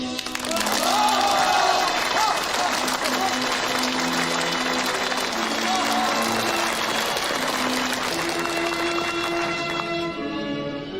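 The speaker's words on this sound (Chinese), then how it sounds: "天安门广场上锣鼓喧天，红旗飞扬，无数的群众欢呼跳跃" Large crowd at Tiananmen Square cheering and applauding amid gongs and drums, a dense, loud, continuous roar of claps and voices held steady throughout, with some tonal music-like lines running underneath.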